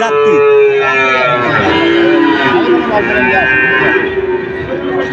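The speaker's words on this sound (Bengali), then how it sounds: "এই লাইনে কিছু বাছুর আছে অনেক সুন্দর বাছুর" Calves and cattle low loudly and steadily at a busy rural cattle market in Bangladesh, a dense chorus of moos close by with people talking over it.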